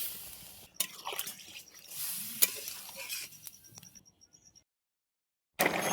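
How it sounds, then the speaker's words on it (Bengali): Water is added to a soybean and potato curry simmering in a pan, producing a burst of sizzling and stirring splashes, with a few drips before it falls silent and a final sizzle returns. "তরকারি কষানো হয়ে গেছে, এবার দিয়ে দিচ্ছি পরিমাণ মতন জল"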